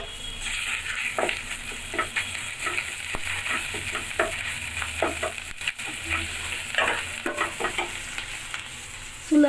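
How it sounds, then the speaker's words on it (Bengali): Ginger and garlic paste fry with browned onions in a pan for a rohu fish curry, crackling in a steady sizzle punctuated by frequent scraping stirs, close and moderately loud. "এখন আমি আদা বাটা আর রসুন বাটা দিয়ে দেবো"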